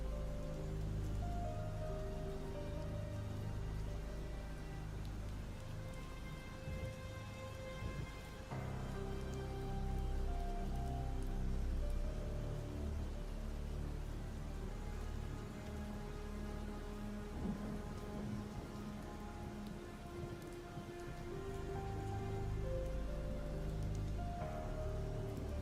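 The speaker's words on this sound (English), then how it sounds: "See, we just get a full rain here." Heavy rain pours steadily in the zombie survival video game Project Zomboid, a dense, continuous hiss with a low rumble beneath and a soft musical drone running through it, with no voices.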